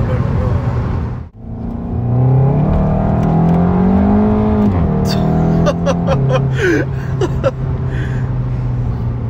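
A car driven hard at its limit, engine revving high and climbing through gears with strained whine, loud and close, with short gasping voices and squeals over it.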